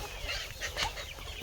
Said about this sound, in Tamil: கோழிங்கெல்லாம் பாருங்கள் எவ்வளோ ஆக்டிவேட்டாக இருக்குது.